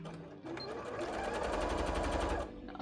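A sewing machine stitches fabric for puffy pumpkin shorts in one steady, close mechanical run of rapid needle strokes lasting a couple of seconds, starting and stopping cleanly.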